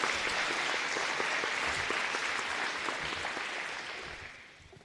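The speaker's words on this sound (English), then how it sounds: "Give them a round of applause," An audience gives a round of applause for a group of students, a dense wash of clapping that holds steady and then gradually fades.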